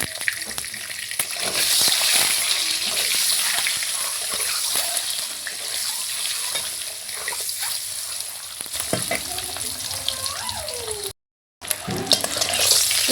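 Eggs crackle and sizzle steadily in a hot pan with salt and turmeric, with occasional spatters and light scraping; a short silent gap near the end.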